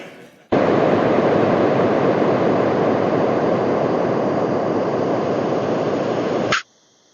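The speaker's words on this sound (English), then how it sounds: "So this is the sound of the Huygens probe landing on Titan." A recording from the Huygens probe's descent and landing on Titan: a steady, loud roar of rushing broadband noise like wind, lasting about six seconds before it cuts off abruptly.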